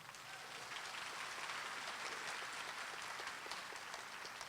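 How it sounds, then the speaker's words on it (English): Audience applause at a fall university commencement ceremony at Albany State University, heard as a fairly distant, even wash of clapping that sounds almost like steady rain, with no talk over it. "Let's give them a round of applause"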